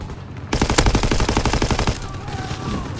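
Rapid automatic gunfire in the game Call of Duty: WWII, a loud steady rattle of closely spaced shots for over a second, then trailing off into lingering noise and faint distant sounds.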